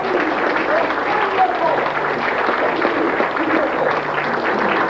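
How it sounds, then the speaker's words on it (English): Audience applause at a magic show banquet, a dense steady wash of clapping lasting throughout at constant loudness. "Give her a round of applause."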